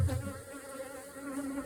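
Male honeybees (drones) buzz at an open hive during an inspection, a dense, continuous droning hum of many wings heard close up.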